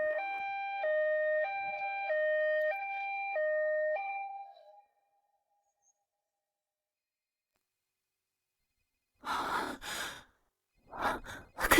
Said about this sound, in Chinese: 肯定是救护车到了